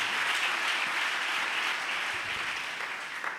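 A church congregation at a Pentecost service applauds, a dense, sustained wash of many hands clapping that fills the room at even loudness from start to finish, with no speech over it.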